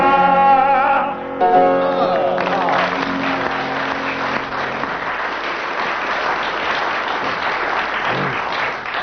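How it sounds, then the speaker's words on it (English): Studio audience applause at a classic 1980s radio comedy panel show recording, a dense sustained wash of clapping that swells in after musical tones and carries steadily to the end. "So the audience applauded for 25 seconds"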